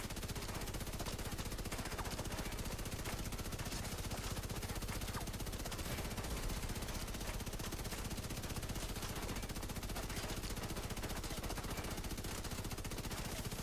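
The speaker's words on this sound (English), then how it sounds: "How's like the gunshot sound compared to the music on the stream?" Rapid automatic gunfire from the shooter game The Division 2, a dense continuous stream of fast shots running without pause for the whole stretch at an even level, mixed in with game audio.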